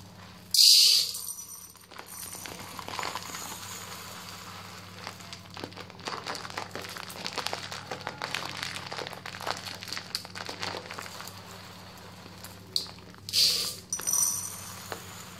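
Urad dal is measured into a small metal tumbler: a sharp rattling pour of grains at the start and again near the end, with quieter rustling and clinking between.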